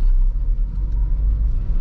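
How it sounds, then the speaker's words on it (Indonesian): A Honda Mobilio car engine pulls up a slight incline at low speed with careful clutch control, giving a steady, close, low rumble throughout with no talking. "Tambah digas ya, mobil masih bisa jalan."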